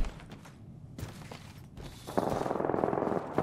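Gunfire in the video game Apex Legends, heard as scattered mid-distance shots and clicks, then a sustained loud burst of rapid firing that fills the second half over steady background game noise.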